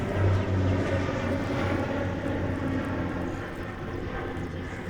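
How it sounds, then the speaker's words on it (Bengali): A fixed-wing airplane flies overhead above a lakeside spot near Dhaka at dusk, its steady low engine drone filling the whole stretch, loud and continuous with a slight fade, no talking. "আকাশ দিয়ে বিমান চলে যাচ্ছে"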